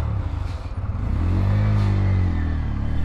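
A 2024 Bajaj Pulsar N160 motorcycle engine is revved up from idle, a loud low throbbing rumble that rises in pitch and holds near the listener for a few seconds, with no talk.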